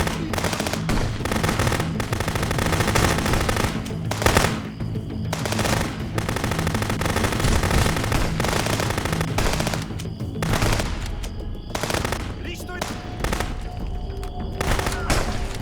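Sustained machine-gun fire in the border-checkpoint game Contraband Police, rattling in long, dense bursts nearly nonstop with brief gaps, loud and close, over a continuous noisy backdrop.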